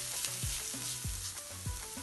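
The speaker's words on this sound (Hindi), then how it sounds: "इसको हम मीडियम टू लो पे पका रहे क्योंकि हमें इसे कलर नहीं देना।" Chicken pizza roll filling cooks in a pan over medium-low heat, giving a steady close sizzle broken by rhythmic scraping stirs of a spoon.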